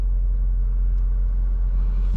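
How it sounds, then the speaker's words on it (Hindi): A 2021 Hyundai Tucson engine runs at a steady, loud low idle rumble, close and continuous without a break, with no voices. "गाड़ी को स्टार्ट कर लेते हैं एक दफ़ा फिर, और ये गाड़ी स्टार्ट हो गई।"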